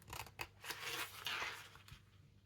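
Scissors snip through paper during card-making with a stamp set, a quick series of close, crisp cuts and rustles, fairly quiet, with no voices.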